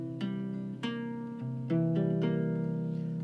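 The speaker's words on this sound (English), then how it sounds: "this is the sound of C dominant 7 chord" Clean guitar notes of a C dominant 7 chord played one at a time in a jazz setting, each pluck clear and ringing into the next, a slow sequence of about five tones.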